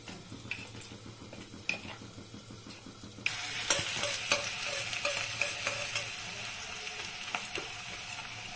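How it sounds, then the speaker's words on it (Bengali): Spices with onion being stirred and fried for pabda fish curry, a quiet start giving way to a sudden loud steady sizzle with rapid spatula scrapes and clinks against the pan, no speech. "মশলাটাকে সবকিছু দিয়ে ভালো করে মিশিয়ে নিচ্ছি।"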